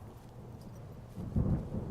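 Low rumbling thunder from an approaching storm in the video game Firewatch, a soft continuous roll that swells louder toward the end of the moment.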